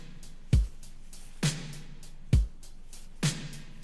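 A percussive substitute for a hi-hat in a homemade music track: four sharp, evenly spaced hits, each with a low thump and a bright noisy splash, alone and moderately loud.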